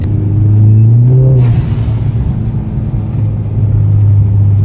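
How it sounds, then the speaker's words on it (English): A turbocharged 2010 Hyundai Genesis engine revs up past 3,000 RPM, holds, then settles into a steady low rumble close by, with no talking. "it's got the right amount of loudness where you still hear the turbo"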